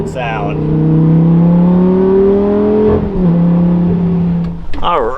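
A Lamborghini Gallardo engine revs nearby: a loud, rising, droning roar held for several seconds, dipping briefly, then settling and rising again before cutting off.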